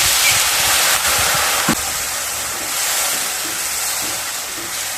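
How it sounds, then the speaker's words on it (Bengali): Loud, continuous sizzling hiss as a little water hits ginger paste and spices frying in a pan for a vegetarian banana-stem ghonto, close and steady throughout, no talking. "মশলাগুলোকে খুব ভালোভাবে কষিয়ে নেব। অল্প জল দিয়ে দিলাম।"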